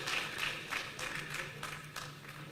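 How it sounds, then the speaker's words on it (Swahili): Scattered audience applause at an outdoor Ushirika Day cooperative celebration at Uhuru Park, Nairobi, distant and fairly faint, with rhythmic clapping bursts rising and falling over a few seconds. "Haya, makofi kwao."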